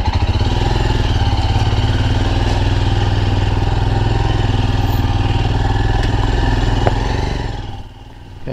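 A Royal Enfield Himalayan Scram 411 single-cylinder engine runs steadily and loudly close by, a constant rumbling beat that holds for several seconds before the sound drops off at the end.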